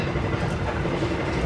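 The Argo Cheribon passenger train runs on rails with a continuous, close rumble and rhythmic clickety-clack of wheels over track joints, steady throughout and free of voices.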